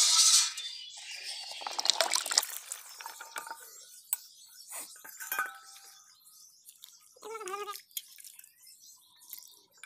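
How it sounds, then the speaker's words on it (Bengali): Cut potatoes with their stalks are rinsed in a bowl of water, giving close sloshing, dripping and light clinking knocks in irregular bursts, fairly quiet with pauses and no talking. "আমি ভালোভাবে ধুয়ে নেব সবগুলো আলু ডাঁটা সহ"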